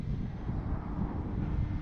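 An RC plane flying low over a lawn, giving a muffled, steady engine drone mixed with wind buffeting on the microphone, fairly close and constant throughout.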